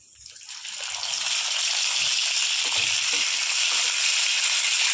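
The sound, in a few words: brinjal frying with garlic in pan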